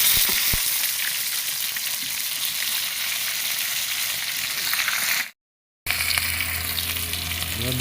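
Rohu fish pieces frying in hot oil, a loud continuous crackling sizzle that cuts out briefly and then resumes with a low hum underneath.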